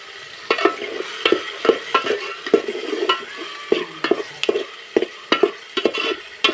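Onions, tomatoes, beans and peas stirred and frying in a pan for a Kathiyawadi stuffed eggplant curry, with repeated spoon scrapes and knocks over a steady sizzle, close and alone.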